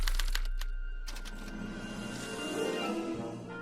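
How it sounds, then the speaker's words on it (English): An old special typewriter in Telltale's Back to the Future game rapidly clatters out a punch card, a burst of sharp mechanical taps at first, then a lower whirring, grinding printer run, close and fairly loud. "they're relayed to this special typewriter, which prints out a punch card that represents the subject's mind map."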